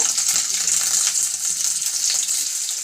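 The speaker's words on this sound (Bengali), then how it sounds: "আমি যে চিকেনটাকে সেদ্ধ করে নিয়েছিলাম সেটা এখন আমি এটাকে ফ্রাই করে নেব" Boiled chicken fries in hot oil, a loud, bright and continuous sizzle heard up close with occasional soft stirring noises and no talking.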